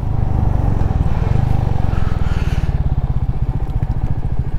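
A Royal Enfield Meteor 350 motorcycle rides with a loud, steady engine thump and a low rapid pulsing throb that keeps going throughout, along with a faint rush of wind.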